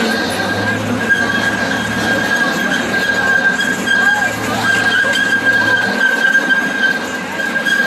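A train ride on the Chance train at Indiana Beach amusement park: continuous rumbling of wheels on track with a sustained high metallic squeal running throughout.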